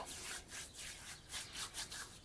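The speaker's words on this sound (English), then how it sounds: "Just rub it on the face" Soft, rhythmic rubbing and swishing strokes repeat close by as water is rubbed on the face before a shave, a quiet wet brushing sound with no talking.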